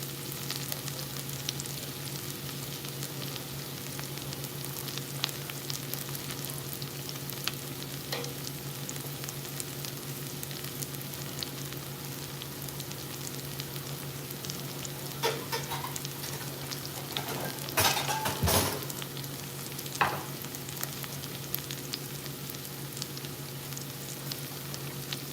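Onions and mixed vegetables sauté in a pan with a steady, even sizzle and crackle throughout. A few faint clicks and scrapes of stirring land near the middle, and a low kitchen hum runs underneath.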